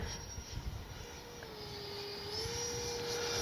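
An RC F-86 jet with a 64mm electric ducted fan makes a speed run, its faint, distant whine holding steady and then rising slightly in pitch as it passes.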